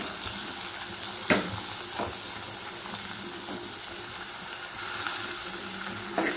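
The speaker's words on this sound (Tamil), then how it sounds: "இதை போட்டு நல்லா வதக்கிடலாம்." Steady sizzling and frying of drumsticks and eggplant in a pan, with occasional clanks and scrapes of stirring, continuous and close, with no voices.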